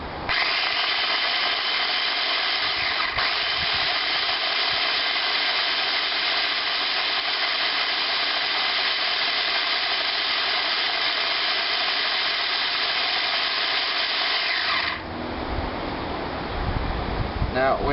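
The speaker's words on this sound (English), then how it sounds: "add them to your blender." A blender whirs loudly and steadily for about fifteen seconds blending banana peels with water, then stops, leaving a rattle and faint movement, with no talk over it.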